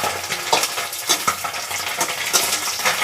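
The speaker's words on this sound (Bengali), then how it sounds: "মাছগুলোকে ভাজতে শুরু করে দিয়েছি।" Small fish frying in hot oil under a plate cover, a dense continuous sizzle with sharp crackling spatters popping throughout, close and fairly loud with no voices.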